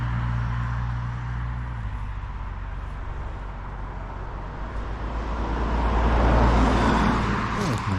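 Cars passing on a busy road beside a country walk in Norfolk, a continuous loud wash of traffic with one vehicle swelling close by toward the end.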